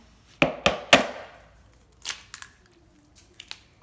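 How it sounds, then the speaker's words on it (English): An egg cracked into a bowl while making a recipe: three sharp, close taps around the first second, then a few softer clicks and rustles trailing off. "1 egg. Crack it up in there."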